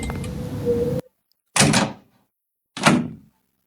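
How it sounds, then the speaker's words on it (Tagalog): An apartment door bangs open suddenly, a rush of noise followed by two separate hollow thuds of the door moving, near and loud in an otherwise silent room. "Biglaan lang ba nagbukas yung pinto?"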